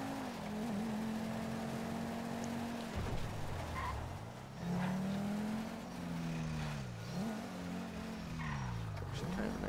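A car engine in the GTA 5 video game hums steadily and rises and falls in pitch through repeated revs and gear changes, loud and continuous.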